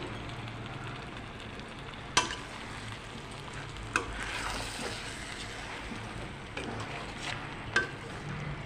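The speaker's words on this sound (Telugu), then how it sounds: "ఇప్పుడు దాన్ని బాగా మిక్స్ చేసుకోవాలి మనం" Prawn, egg and okra in a tamarind curry stirred in a pot, a steady soft scraping and bubbling with a few sharp knocks of the spoon against the pot.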